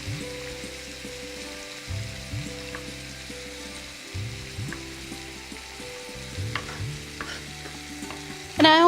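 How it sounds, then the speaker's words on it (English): Chickpea masala for chana shimla mirch sautés in a pan with steady frying sizzle and repeated scraping stirs, close up over faint background music. "I stir it in. You let this saute for about 3 or 4 minutes."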